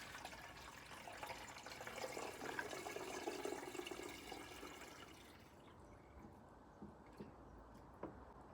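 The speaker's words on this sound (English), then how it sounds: "So I'm going to add some water" Water pours in a quiet, steady stream into a solar-powered duck toy for several seconds, then stops, leaving faint drips and small knocks.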